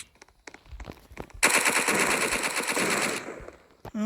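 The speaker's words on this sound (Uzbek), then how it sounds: "O'z-o'zini otyapti." Rapid automatic gunfire in the Roblox horror game Doors, a sustained loud burst lasting nearly two seconds after a few scattered thuds, followed by a short metallic sound at the end.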